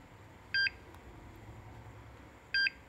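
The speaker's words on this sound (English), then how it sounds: "That beep meant it accepted it" An MSA Altair 4X gas detector gives two short, sharp electronic beeps about two seconds apart against a faint, quiet room background.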